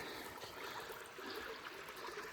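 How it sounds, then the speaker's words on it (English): Creek water at Grassy Swale Creek flows in a soft, continuous trickling rush, fairly faint and steady with no voices. "I made it to Grassy Swale Creek."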